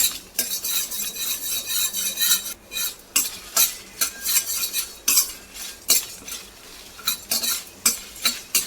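Dried red chillies frying in oil in a pan for a chicken fry masala, stirred with a metal spoon: a close, repeated run of scraping clinks and taps against the pan over a soft sizzle, with no talking.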